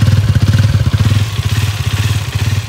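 A warm 2024 Karizma XMR 210 motorcycle engine runs close by with a loud, rapid, rhythmic thumping pulse that holds steady as the revs creep upward.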